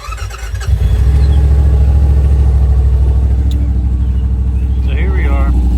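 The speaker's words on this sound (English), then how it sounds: "This is the sound of the factory OEM exhaust plate." A Yamaha RMAX side-by-side with its factory OEM exhaust starts up and settles into a loud, steady idle close by, a deep even rumble that continues unbroken.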